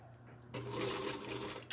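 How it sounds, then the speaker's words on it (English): A sewing machine sews a seam on a fabric pocket, a brief quiet hum followed by a loud, steady whirring run that ends in a sharp click. "I'm going to put right sides together and I'm going to sew 3 seams"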